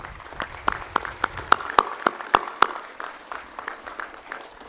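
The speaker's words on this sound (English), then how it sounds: "a round of applause to our Board of Supervisors trusting in us." A crowd at a technical school ribbon-cutting ceremony claps together, a quick run of crisp, nearby hand claps that peaks and then thins out into scattered claps.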